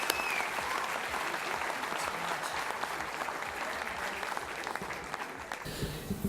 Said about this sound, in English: Can you give him a massive round of applause and your full attention